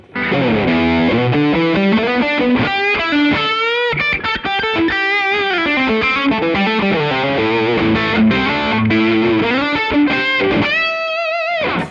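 Electric guitar played through an IK Multimedia Tonex Mesa/Boogie amp tone model with a lead cab, a loud distorted lead line of fast runs and sustained bends with no talk.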